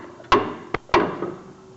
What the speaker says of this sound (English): So you strike that with a couple hammers